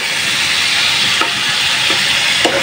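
Fish sautés in a pan with a loud, dense, continuous sizzle and hiss, with a few faint stirring knocks underneath and no voices.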